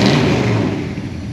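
A 1968 Ford F250 Ranger pickup's engine rumbles loudly up close, a deep throaty burst that eases off and settles toward idle.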